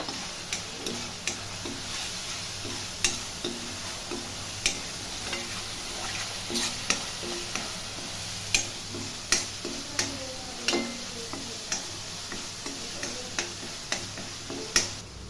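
Masala with turmeric for chicken curry is stirred in a pan, a soft background sizzle broken by regular light ticks and scrapes of a spoon against metal, fairly quiet and close.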